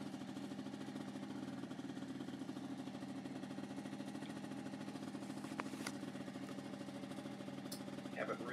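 A Honda Aero 50 scooter idles at night with a steady, low, buzzing engine rumble that runs evenly throughout, fairly faint and continuous.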